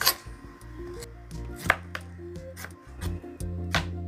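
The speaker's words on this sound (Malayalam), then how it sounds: "നമുക്കതിനെ മുറിക്കാം" A knife chops tender jackfruit into pieces for idichakka thoran, giving a series of close, uneven knocks on a board, about a dozen cuts at irregular intervals.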